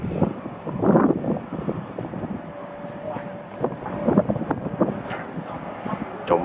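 Strong outdoor wind buffets the microphone with continuous low rumbling gusts that rise and fall throughout, while a voice speaks underneath.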